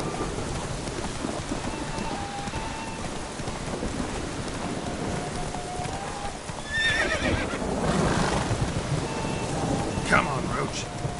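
A horse ridden at speed through rain in The Witcher 3, with hoofbeats and whinnies over steady rainfall, a rumble of thunder, and a voice urging the horse on.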